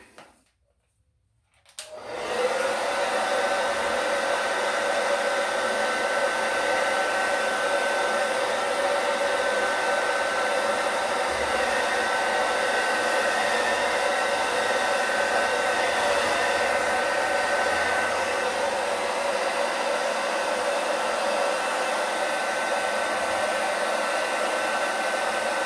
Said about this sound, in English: but blow dry it from the top.